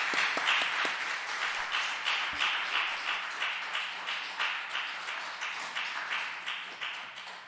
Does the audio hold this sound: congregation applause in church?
yes